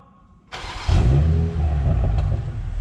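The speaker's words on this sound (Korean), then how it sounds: "시동 킬 때도 팝콘이 한 번씩 버버벙 터지네요" A tuned BMW X6 40i engine cranks and fires up loudly, settling into a deep rumbling idle with a few crackling pops from the exhaust.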